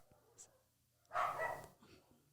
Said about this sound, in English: Sorry, everyone's barking.